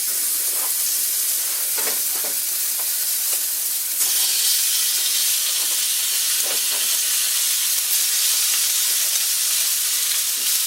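A cast iron pan heats on the stove, giving off a steady, fairly loud broadband hiss and sizzle that grows a little stronger partway through, with faint clicks and rattles.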